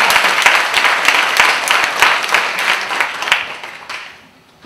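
Audience at a lecture breaking into applause, loud and close, with crisp individual claps within a dense burst that gradually thins and fades out near the end.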